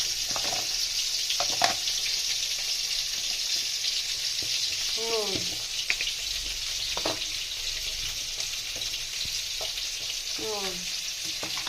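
Koi fish fry in hot oil with a loud, steady sizzle and spitting crackle, punctuated by occasional knocks and short squeaky scrapes of a spatula; no talking.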